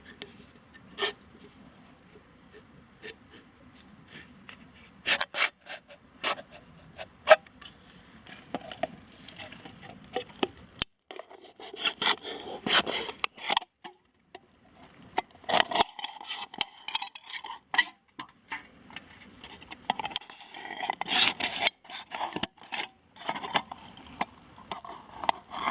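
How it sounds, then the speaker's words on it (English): Tin can being cut open with a knife to make a small stove, irregular close scraping, rasping and crunching metal sounds in short bursts throughout. "we're going to cut an eye into this can"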